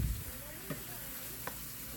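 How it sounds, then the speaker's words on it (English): Squash frying slowly in a pan, a soft steady sizzle with a couple of faint utensil taps, quiet and close. "So what we do is just let these squash fry slowly for about,"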